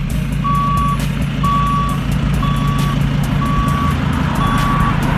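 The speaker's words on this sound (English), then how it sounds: "We got Tire Mobile Express pulling up." A mobile tire service truck pulls up while its reversing alarm beeps five times at an even pace over a steady engine rumble, loud and close.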